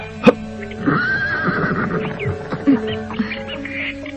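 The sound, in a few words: horse neighing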